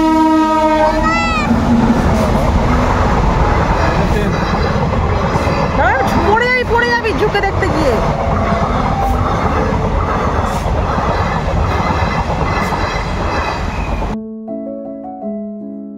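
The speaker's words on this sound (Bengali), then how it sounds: "গেট পড়ে গেছে, ট্রেন আসবে" A train passes a village level crossing with the gate down, its horn sounding and wagons rumbling loudly by, while people nearby talk over the noise.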